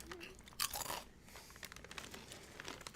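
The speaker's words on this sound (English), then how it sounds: "I'm going in for the big like mic crunch here." A potato chip crunched right against the microphone, one loud close bite with crackly breaking followed by softer chewing crunches, no voices.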